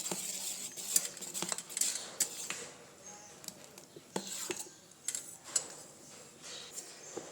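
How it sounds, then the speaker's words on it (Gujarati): A spoon stirs salt into idli batter in a bowl, giving quiet, irregular clinks and soft scraping against the bowl, close but faint. "આ મીઠાને આપણે સરસ રીતે મિક્સ કરી લઈશું"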